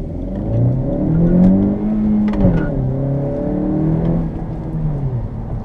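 A 2017 Honda Civic Hatchback Sport engine revs loudly from inside, pitch climbing and dropping as the manual gears shift, with a blip of throttle in between.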